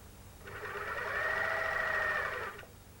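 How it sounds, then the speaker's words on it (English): A My Lock 203 overlocker stitches over elastic stretched on fabric, giving a steady close whirring hum that starts, runs for about two seconds and stops, with nothing else heard. "place the fabric under the pressure foot and sew over the elastic, stretching it at the same time"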